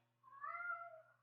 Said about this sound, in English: It's my idiot cat.